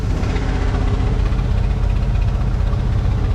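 Old engine with the wrong carburetor, unrun for three years, now running: a loud, rough, steady low rumble with a fast uneven chugging pulse, close by.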